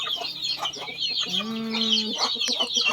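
Domestic chickens on a rural Lao village smallholding cluck repeatedly in short bursts, with one drawn-out call in the middle, over steady outdoor background noise.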